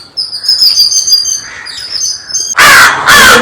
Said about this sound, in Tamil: ரெண்டு காக்கா இருக்கு அந்த பக்கம்